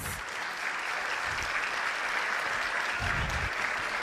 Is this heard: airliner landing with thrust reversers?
no